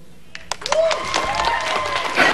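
An audience at a comedy show claps, starting with a few scattered claps and swelling into continuous applause, with a voice talking over it.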